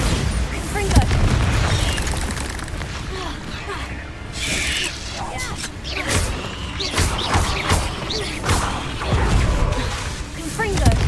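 Confringo and Bombarda spell blasts in the Hogwarts Legacy video game, a dense run of booming impacts, whooshes and crashes over a constant battle din, with a spell-casting voice shouting through much of it.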